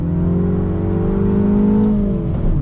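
A 2021 Mini Cooper S convertible with a 6-speed manual accelerating hard, its engine note rising loudly and steadily close by, with a brief dip near the end.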